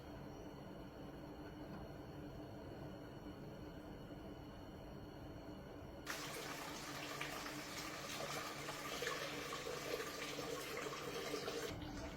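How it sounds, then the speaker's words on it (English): Coolant antifreeze drains from the bottom of a 1967-1970 Ford Mustang radiator, a steady liquid pour that grows louder and brighter about halfway through and runs on continuously with no talking. "Now if you have a valve at the bottom of your radiator, you can open that up to drain the coolant, the antifreeze."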